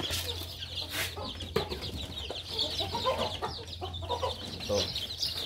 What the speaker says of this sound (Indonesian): Ini untuk jenis ayamnya ini ayam Arab teman-teman.